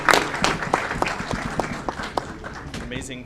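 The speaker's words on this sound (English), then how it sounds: "Round of applause for our City of Aurora women staff members" A scattering of individual claps at a City of Aurora council meeting for Women's History Month, sparse and uneven hand-claps from the room that thin out over a few seconds.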